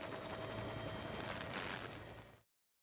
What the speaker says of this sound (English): Helicopters are lifting families from rooftops.